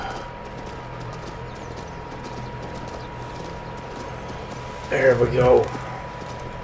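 A horse in the video game King's Bounty 2 clip-clops steadily over low game ambience, and a louder burst of hoof and tack noise rises near the end while someone speaks briefly.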